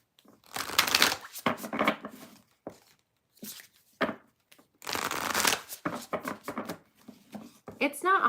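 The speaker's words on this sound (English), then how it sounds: "let's move on to Scorpio after I shuffle" Tarot cards being shuffled by hand in several bursts of riffling and rustling, interleaved with someone talking between the shuffles.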